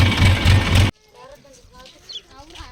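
A tractor engine idles with a heavy, pulsing rumble for about a second before cutting off, leaving quiet background with faint bird chirps.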